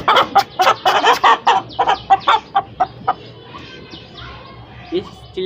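An Aseel pullet hen squawks loudly while being held, a rapid series of harsh, close clucks and screeches that slows into scattered, quieter calls.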